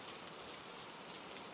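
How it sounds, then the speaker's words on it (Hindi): Rain falls in a steady, even hiss with no pauses, soft and fairly distant, and nothing else stands out, in a cartoon. "बारिश अब भी रुकने का नाम नहीं ले रही थी।"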